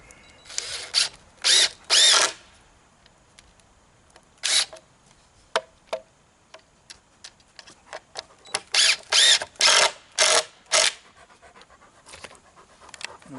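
Loud bursts of a power drill driving screws into a wooden bird feeder, with short whirring runs separated by pauses and faint clicks, close up and alone.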